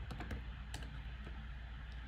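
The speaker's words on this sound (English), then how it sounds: "I've just typed TMD and then TMD predict" A handful of quick, close clicks from a computer keyboard, bunched at the start and then sparse, over a loud steady background hiss.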